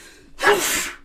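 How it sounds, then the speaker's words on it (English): One close, loud sneeze, a sharp inhaled build-up bursting into a breathy expulsion. "1 second, I gotta sneeze."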